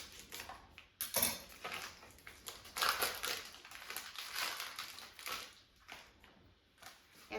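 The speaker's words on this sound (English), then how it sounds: "So what I need to do is just open up the package." Crinkly plastic packaging of ring bologna being torn and pulled open, a run of close crackling and crushing rustles with sharp bursts, steady and alone without talk.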